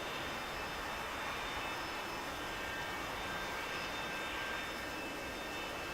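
An A-4 Skyhawk jet engine in a flight simulator game roars as a steady, loud, broadband rush that holds level throughout with no pauses and no talk.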